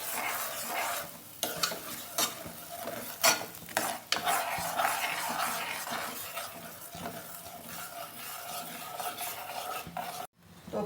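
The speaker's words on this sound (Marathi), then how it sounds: "ह्याला एकसारखं आपण असं हलवत राहायचं" A spoon scraping and stirring thick paneer gravy in a pan, repeated rasping strokes over a soft sizzle, fairly close, with a brief pause near the end.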